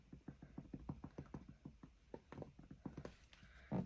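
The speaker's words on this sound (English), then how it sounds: "I'm just going to take the lid" A lid is worked off a vintage photo distress spray bottle, giving a quick series of faint, rhythmic plastic clicks and ratcheting creaks, close and quiet, ending in a slightly louder scrape.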